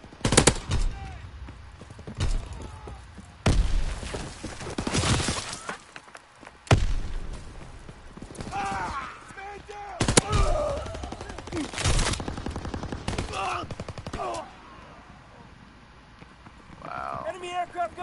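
Machine-gun fire from an enemy aircraft gunner in the World War II shooter Call of Duty WWII, coming in loud, sharp bursts spread across the stretch and mixed with game voices and other battle noise.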